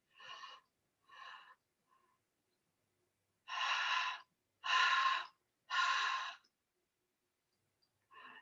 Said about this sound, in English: what we do is we breathe in